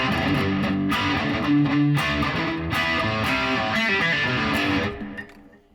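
Electric guitar played loud through a Plimsoll distortion pedal, thick, fuzzy chords with a heavy low end that sustain steadily, then fade out at the end.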